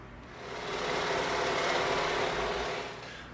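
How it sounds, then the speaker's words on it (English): A scroll saw tapers an EVA foam-wrapped dowel into a cone, a buzzing motorized whir that swells in the middle and eases off at the end, heard alone without voices. "now we're going to take this one over to the scroll saw and we're going to taper it"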